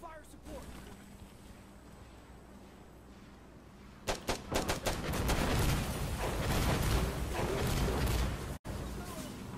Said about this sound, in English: They're throwing so many mortars and bombs at us right now